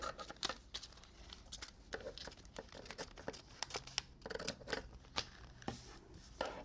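Scissors trimming vinyl decal transfer tape, with quiet irregular snips and crinkling plastic sheet rustles close by in a calm room.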